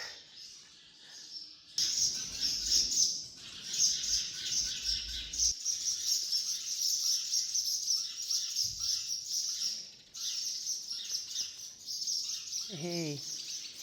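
Small birds chirp and tweet steadily outdoors near a horse stable, a dense high chatter that runs almost the whole time, with brief low rustles and a short voice near the end.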